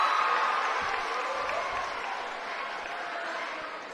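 A noisy crowd fills the gym at a boys' high school basketball game between North Medford and South Medford, a dense, steady roar of voices and cheering that swells at the start and holds fairly loud throughout.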